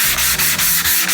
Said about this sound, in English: now we're sanding it again